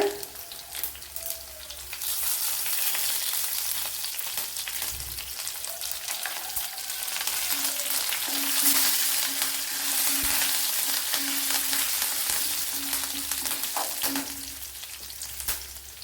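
Garlic, ginger and curry leaves fry in a pan in Kerala-style home cooking, giving a steady close hissing sizzle that swells and crackles as more ingredients go in, with faint stirring clinks.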